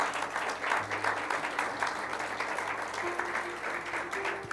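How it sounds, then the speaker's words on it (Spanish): A church congregation claps for the Lord during a sermon, a steady wash of many hands with a low hum underneath, moderately distant and continuous throughout. "Dale un aplauso al Señor."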